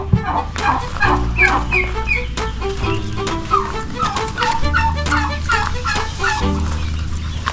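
A backyard flock of ducks and chickens makes overlapping clucks and quacks, continuous and close, with busy layered calls throughout and no clear speech.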